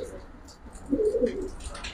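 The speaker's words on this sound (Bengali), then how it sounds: "দেখেন খুব বিগ সাইজ কবুতর।" Giribaz silver pigeons coo in a loft, a few soft rolling coos rising near the middle, with scattered faint chirps and some nearby talk in the background.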